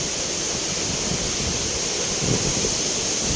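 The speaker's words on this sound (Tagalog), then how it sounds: "Hangin dito oh." A constant, dense rush of strong wind blends with roaring water near a waterfall, a steady loud wash of noise with no pauses.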